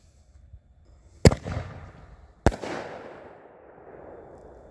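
Two Black Cat black box artillery shell fireworks burst outdoors about a second apart, each a sharp loud bang trailing into a crackling rumble that fades.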